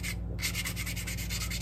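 Sandpaper rubs rhythmically against a maple wood fish carving, quick close back-and-forth scratchy strokes repeating evenly with no speech.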